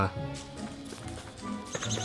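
Beefalo in the survival game Don't Starve, heavy hoofed clip-clop steps and low grunting calls over a steady game soundtrack, with someone talking throughout.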